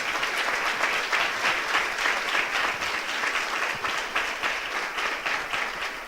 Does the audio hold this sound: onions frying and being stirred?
no